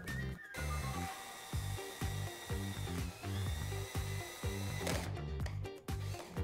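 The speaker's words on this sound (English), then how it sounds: "we drilled the plate to the mounting tabs on the fuselage in the bay behind the cargo bulkhead" A drill bores through a plate into aircraft fuselage mounting tabs in the bay behind the cargo bulkhead, giving a steady close whine broken into short repeated bursts with brief stops.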